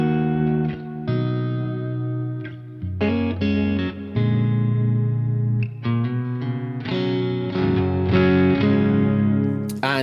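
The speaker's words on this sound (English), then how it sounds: "more traditional voicings, you know, like with the reverb delay and just amp tone" An electric guitar runs through a pedalboard with reverb, delay and amp tone, ringing out sustained chords and short phrases that bloom and trail off, loud and alone with no talking.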